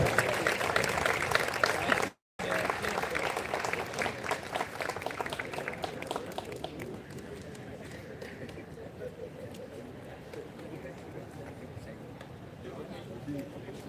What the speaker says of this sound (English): Please give a big round of applause to Kanika Raval.